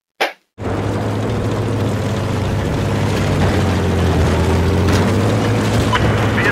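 A steady, droning helicopter engine hum with a low rotor throb in Battlefield 4 runs continuously after a brief click at the start, loud and close.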